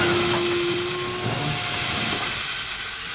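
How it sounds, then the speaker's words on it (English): Steam blasts loudly and continuously from a steam locomotive's safety valve, a broad close hiss with a faint whistle-like tone early on. "a cloud of steam erupted from the top of James"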